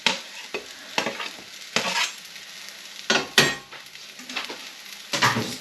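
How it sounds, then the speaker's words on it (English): Garlic sizzling in a hot frying pan for shakshuka, a steady crackling hiss broken by repeated louder scraping stirs of a utensil against the pan, close by with no talking. "I'm just going to put the garlic in there now."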